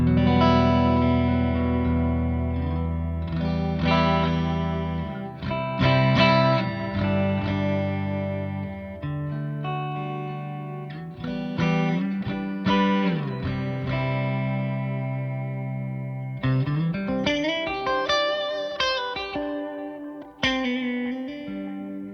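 A Mayones Aquila Elite S electric guitar on pickup position 4 plays through effects, with sustained chords and melodic lines, chorus and reverb shimmer, and loud, continuous playing with short breaks between phrases.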